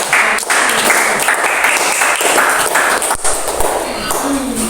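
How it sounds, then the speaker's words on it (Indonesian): Classroom applause fills a teacher-training session on Islamic sacrifice practice, a loud steady wash of many hands clapping with a few thuds and taps, with talk faintly beneath. "kasih tepuk tangan"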